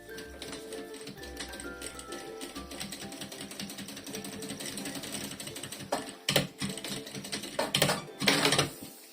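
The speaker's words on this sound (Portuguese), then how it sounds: "E agora vou fazer uma costura pé de máquina." A sewing machine stitches lining to synthetic fabric with a fast, steady mechanical rattle, then gives a few louder, separate bursts of stitching near the end, close by and with no talk.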